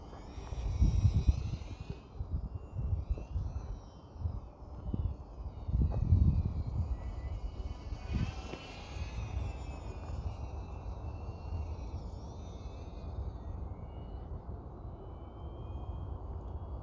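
E-flite UMX Twin Otter small twin-motor RC model plane flying at sunset, faint high electric motor whine drifting in and out, with wind buffeting the microphone in the foreground.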